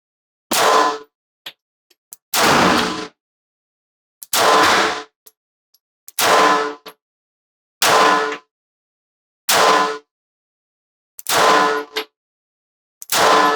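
Beretta 84BB pistol fired double action, ten loud sharp shots spaced about every one to two seconds in a steady rhythm, each a close, percussive crack with a brief ringing tail, no talking.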